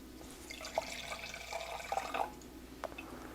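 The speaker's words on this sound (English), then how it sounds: "Now I'll pour Chris some wine." Red wine, a 2018 Cabernet Sauvignon Reserve, poured into a glass at a wine tasting, giving a faint, soft trickle with a few small drips and clinks, close and alone.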